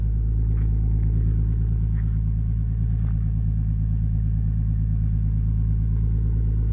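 A tuned Toyota Supra engine on an AEM EMS V2 holds a steady, loud idle throughout, with a deep, even rumble and no revving or talk.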